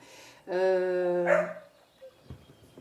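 A single dog barks once, loud and close, a drawn-out harmonic yelp followed by quieter room noise and faint movement.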